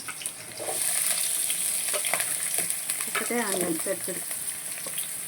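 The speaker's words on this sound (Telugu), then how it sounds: "ఇప్పుడు తాలింపు వేసుకుందాం" Steady, loud sizzling of onions frying in hot oil for a fish curry, with occasional scraping and stirring sounds and a brief background voice.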